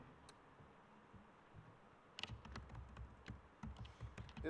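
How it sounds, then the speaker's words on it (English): Typing on a computer keyboard: a quiet stretch, then from about midway a run of quick, irregular clicking keystrokes, close and fairly soft, with no talking. "let me just type this in here."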